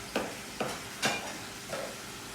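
Cookie dough with oil is stirred in a bowl, giving four soft scraping strokes at an unhurried, uneven pace over a low steady background.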